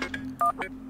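A phone booth telephone being dialed in the video game Wrongworld, giving a short sequence of beeping touch-tone key presses over a low steady hum, close and without talk.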